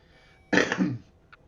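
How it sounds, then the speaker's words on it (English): A single sharp cough, close and loud, in an otherwise quiet setting. "Apologies for that cough there"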